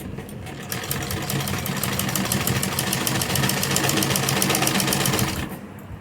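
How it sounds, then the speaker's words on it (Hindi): Sewing machine stitching a lace neckline, one continuous, fast, even rattle running for several seconds before stopping, loud and close, with no voices. "इसलिए हम इस तरह से सिलाई लगा लेंगे।"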